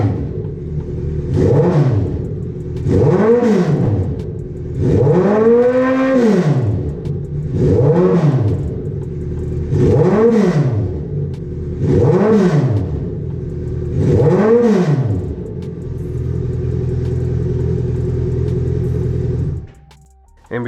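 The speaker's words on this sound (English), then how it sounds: "Then we have the revving of the motorcycle." A motorcycle fitted with a customized exhaust baffle revs up six times in steady succession, each blip rising and falling in pitch, loud and close, then settles into a rumbling idle before cutting off.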